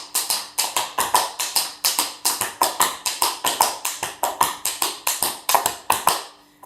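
Tap dance steps in triples and singles on a hard floor, a fast, crisp run of metallic taps in steady rhythmic groups, close and loud, with no talk.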